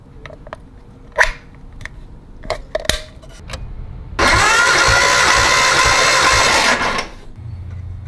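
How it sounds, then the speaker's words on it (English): A Nissan Skyline engine with its spark plugs out turns over on the starter during a compression test, a loud steady mechanical whir lasting a few seconds, preceded by scattered clicks and taps from handling a gauge nearby. "We're going to remove all the spark plugs, install this gauge, and turn over the engine."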